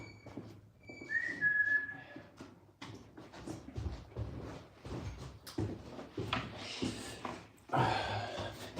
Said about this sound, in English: If you hear squawking in the background, it's because one of the guys that's here has some sort of parrot or something.